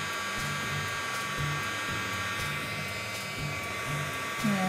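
A heat gun blowing on embossing product during craft work, giving a steady whirring, hair-dryer-like hum that runs continuously at close range.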